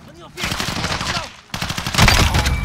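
Rapid bursts of gunfire in Call of Duty: Modern Warfare, close and loud. A short rattling volley comes first, then after a brief pause a denser, louder stretch of shots.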